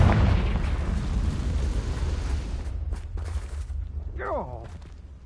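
Confringo blasting spell explosion in Hogwarts Legacy, a heavy booming blast that opens the clip and rumbles away, followed by softer game effects and a short rising magical swoosh.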